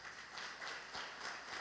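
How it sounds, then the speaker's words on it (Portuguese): Faint, brief applause from a church congregation, soft and distant scattered clapping for under two seconds. "Melhor essas palmas aí, né?"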